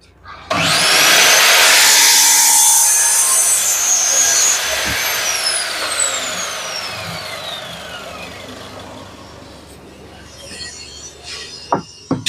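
A power tool cuts wooden dowels for pegging window frames, starting abruptly at high loudness with a rising whine, then slowly winding down and fading out, followed by a couple of sharp knocks.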